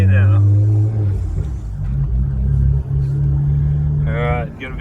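Engine rumble from a BMW E92 335i as it drives home after a drifting day, a steady low drone with shifting pitch running throughout, close and loud, with a voice speaking briefly near the start and again near the end.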